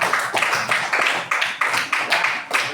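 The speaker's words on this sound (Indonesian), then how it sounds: "Kita kasih aplaus dulu, tepuk tangan untuk teman yang sudah maju." A school class claps together in a steady rhythmic pattern, about nine sharp, fairly close unison claps in quick succession.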